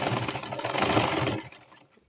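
Sewing machine running steadily while stitching a flounce sleeve along chalk marks, a continuous close whirring hum that cuts off and fades near the end.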